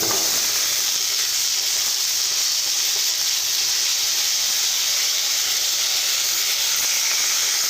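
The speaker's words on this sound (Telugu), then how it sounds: "అదే కడాయిలో టమోటా ముక్కలు వేసుకోవాలండి" Tomato pieces fry in a kadai for a cumin and tomato chutney, making an even, unbroken hiss and sizzle that holds steady throughout.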